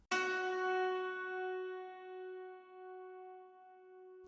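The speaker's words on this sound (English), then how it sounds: "It's just the original cymbalom here." One dry cymbalom note rings out alone with no effects, struck once and then slowly fading with bright metallic overtones.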